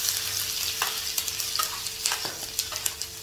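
Chopped ginger and garlic fry in hot ghee with a steady close sizzle, broken by light clicks and scrapes of stirring.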